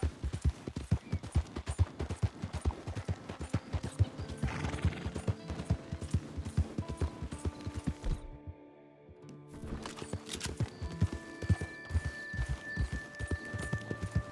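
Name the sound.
horse turning around in Red Dead Redemption 2 video game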